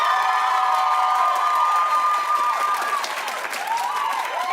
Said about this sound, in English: Clap if you want Beyonce to win.